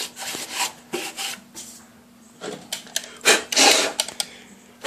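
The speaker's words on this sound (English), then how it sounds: "The outer one protects the inner one. And that just, and that slips over like that." Outer air filter element slid over the inner filter element, giving scraping, rubbing bursts of varying length, close and moderately loud, with short pauses between them.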